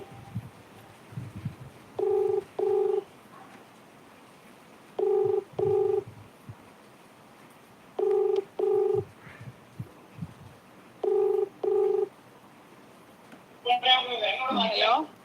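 A telephone number is keyed in on a phone, giving repeated pairs of short electronic dialing beeps at a steady rhythm, fairly quiet, with faint background noise and a brief burst of voice at the end.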